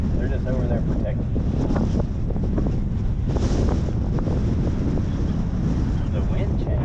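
Strong wind blowing outdoors near a steel shipping container ramp build, a constant loud rushing roar buffeting the microphone throughout, with faint voices underneath.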